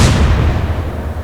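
A single heavy naval gun blast from the Atlantic Fleet battleship game, loud and booming with a broad crack that rolls into a long, fading rumble.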